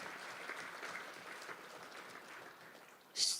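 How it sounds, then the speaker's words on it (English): An audience at an inaugural professorial lecture claps for a mentor, soft and fairly distant, a light even patter that ends in a sharper burst right at the close. "Please give him a big round of applause."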